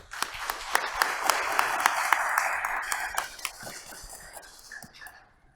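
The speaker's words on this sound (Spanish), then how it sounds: "Recibimos al doctor Luis Vázquez con un fuerte aplauso" An audience applauds to welcome a speaker at a book presentation, dense steady clapping from a crowd that swells and then tapers off toward the end, with a few sharper claps standing out.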